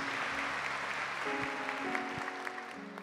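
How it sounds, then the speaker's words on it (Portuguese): A church congregation claps during a Catholic homily, with steady applause beneath sustained organ or keyboard chords. "Então aplauda o Senhor, que pode realizar essa obra na sua vida e na vida dos seus."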